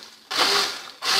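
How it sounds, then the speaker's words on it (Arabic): A kitchen blender whirs loudly through orange-juice concentrate mixed with a liter of water and no sugar, in two close bursts: one long run, a brief stop, then the motor starts again. "وغادي نطحن العصير ديالي"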